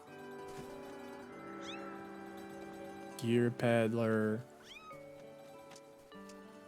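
A cat meows several times in the video game The Legend of Zelda: Skyward Sword, with short game tones around it and a person talking over the sounds.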